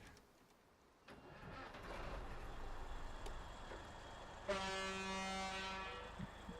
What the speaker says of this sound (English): P16 does have the best engine sound and best horn in the game.